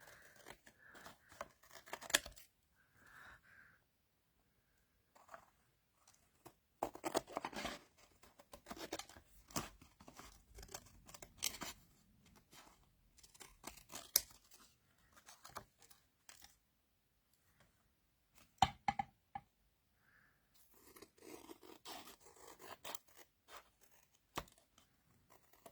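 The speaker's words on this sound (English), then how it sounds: "I'm better off with scissors." Scissors cutting wet paper, a series of quiet close snips and crisp cuts in irregular bursts separated by silences, with occasional faint rustling and no talk.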